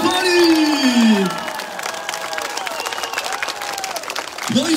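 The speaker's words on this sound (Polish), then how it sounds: "A więc Koszalin, witamy naszą mistrzynię przed nami, Małgorzata Hołub-Kowalik!" A crowd in an old town market square applauds and cheers to welcome an Olympic champion, dense clapping and shouts holding steady throughout, loudest at the start, with a voice rising briefly at the end.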